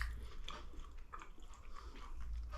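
Close chewing and biting of chunky homemade pesto chicken during a taste test, with soft crunchy mouth sounds repeating over a couple of seconds and no talk.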